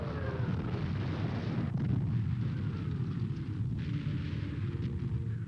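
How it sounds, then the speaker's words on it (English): Heavy artillery barrage of relentless drumfire on a paratroop line, a dense continuous roar of overlapping explosions with deep rumbling booms, loud and sustained without pause throughout. "Stundenlang dauert das Trommelfeuer an, das unsere Männer vernichten soll."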